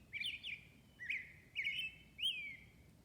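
An American robin's song played from a phone app: four bright, warbling phrases ring out in steady succession, each a short whistled burst separated by small gaps, with soft background hum underneath.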